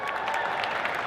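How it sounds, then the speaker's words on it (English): A convention panel audience at a Star Wars Celebration event applauding, a steady diffuse patter of many hands heard at a distance with no break. "You can clap, don't be afraid."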